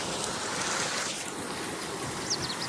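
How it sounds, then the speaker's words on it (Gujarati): Strong wind gusts outdoors while water tanks are being filled, heard as a steady broadband rush that swells and eases, moderately loud, with a brief faint chirp near the end and no talk. "પવન ભારે આવે છે"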